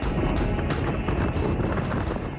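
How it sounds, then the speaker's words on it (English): Strong wind buffets the microphone on a hilltop overlook in Alaska in a loud, continuous roar with gusty rumbling and no talking. "Wind was crazy, and it comes up over that valley there."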